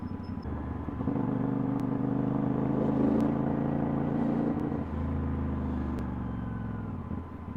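Road traffic around a motorbike on a ride in La Union, a continuous loud low rumble of engines with pitch rising and falling, and brief sharp clicks over the drone.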